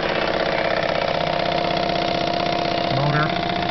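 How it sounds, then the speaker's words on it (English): A Jensen 25 toy steam engine runs two generators off a single rubber band, making a steady, close mechanical chugging whir with a fast repetitive beat throughout. "Driving both generators off of one band, we're going to see if absolutely everything will go."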